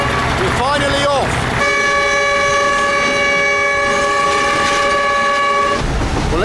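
Passenger train in Cambodia, a loud sustained multi-tone horn blast sounding for several seconds over the rumble and rattle of the moving carriages, with voices heard briefly at the start.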